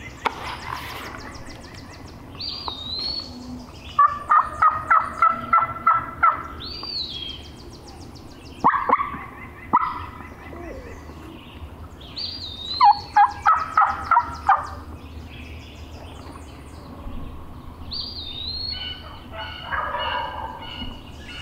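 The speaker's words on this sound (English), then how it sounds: "Had another bird gobble off in that ditch." Wild turkeys gobble from a ditch in the woods, several loud, rattling gobble bursts repeating every few seconds, with softer calls and outdoor ambience between them.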